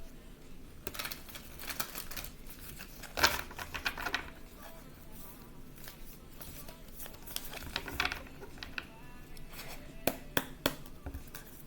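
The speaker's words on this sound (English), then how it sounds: "I'm going to shuffle the cards." Tarot cards being shuffled by hand, a series of quiet, close papery riffles and taps in irregular bursts over a soft room background.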